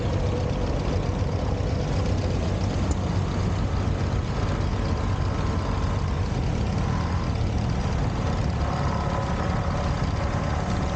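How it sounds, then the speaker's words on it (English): A 1944 John Deere Model B tractor, a 22-horsepower machine at an outdoor tractor show, rolls by with a steady, continuous engine drone that holds at an even loudness throughout, with no talking. "Brendan Krause is driving a 1944 John Deere Model B"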